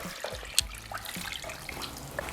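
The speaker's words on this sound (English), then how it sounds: "We're going to cover that with water." Water runs and trickles into a pot of chicken pieces in a short, quiet stretch, with a few clinks and splashes.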